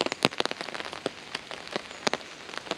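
Welsh rain patters steadily on surfaces outdoors, with scattered sharper drops landing close by in an irregular rhythm and no voices.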